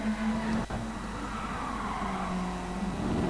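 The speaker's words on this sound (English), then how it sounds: "You can hear the car drifting all over the place." A race car in Gran Turismo Sport drifts during an online league race. A continuous engine drone runs under a long sustained tyre squeal that bends in pitch as the car slides.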